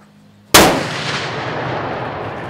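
A single loud, close blast from a high-powered muzzleloader rifle fired outdoors, with a sharp onset followed by a long rumbling decay that fades slowly.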